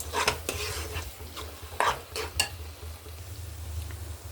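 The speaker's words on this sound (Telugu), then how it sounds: "చూసారా ఆయిల్ ఇలా పైకి వచ్చేంత వరకు బాగా ఫ్రై చేయాలి." A gongura chutney paste with onion and garlic fries in oil while being stirred, giving soft scraping strokes over a low, steady sizzle close by.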